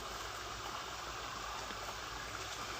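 A mountain stream flows steadily below a waterfall in Chengara, Pathanamthitta, with a continuous, even rush of water, close and fairly loud, with no voices.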